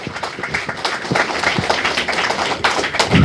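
An audience at a book-launch event in Daegu gives scattered, uneven hand claps and taps, close and fairly loud, swelling slightly toward the end.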